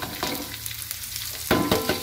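Lemongrass and galangal sizzling in a hot pan while being stirred, a steady close frying hiss broken by a few scraping stir strokes, with no talk.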